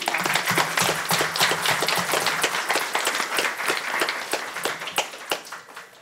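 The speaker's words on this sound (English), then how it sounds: "these ladies here deserve to be clapped and cheered" An audience at a county commission regular meeting claps steadily in a room, a dense run of individual hand claps that thins and tapers toward the end, with no cheering evident.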